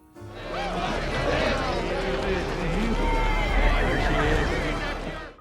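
A horse pulling a fruit-laden horse cart on the way to town whinnies repeatedly while hooves clip-clop underneath, moderately close, with a voice speaking over it.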